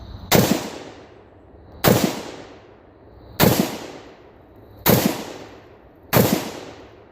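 Five sharp 5.45 rifle shots fired with a standard muzzle nut at an outdoor range, each loud crack spaced about one and a half seconds apart and trailed by a short echoing decay.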